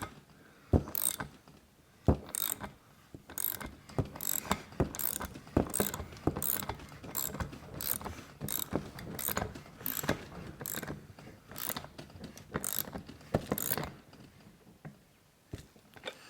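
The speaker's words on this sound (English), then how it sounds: "we're going to get this sensor started in here and see if it'll cut its own threads" A Holley EFI sensor is threaded by hand into an LS engine swap fitting, cutting its own threads, with a series of close ratcheting clicks and scraping turns in an uneven rhythm.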